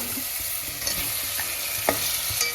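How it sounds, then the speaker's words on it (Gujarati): Chopped palva fish pieces hit hot oil with chili and fry with a steady close sizzle, broken by a few sharp pops and stirring clicks over about two and a half seconds. "જો ભાઈ પાલવાની કટિંગ કરેલું નખાય છે અત્યારે તેલ મરચામાં."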